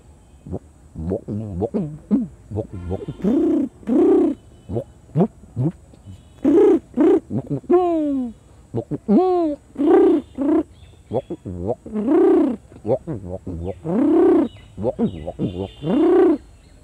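A man imitates pigeon cooing with his voice, giving a series of close, loud, rhythmic rounded coos and warbling calls, repeated in short bursts alone without other talk.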